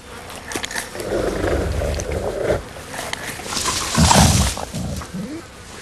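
A wolf pack squabbles over food in the wild, with younger members pushing in. Rough snarls and growls churn under wind and rustling, and a louder burst of aggressive snarling comes near the end.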